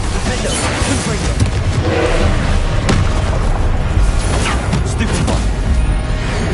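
Hogwarts Legacy spell combat with the Confringo fire spell: a dense, loud wall of booming blasts and crackling impacts with no quiet gaps, and voices calling out over the din.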